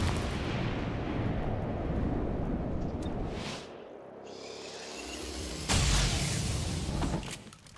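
Heavy shotgun blasts from XCOM: Chimera Squad video game combat, loud booming discharges with a whooshing tail, a second big blast near the end, no talking.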